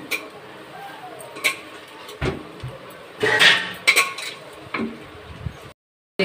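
Soya chunks tossed with a little gram flour in a hot pan give off scattered scraping and metallic clinks, short knocks spaced irregularly against a low background hiss.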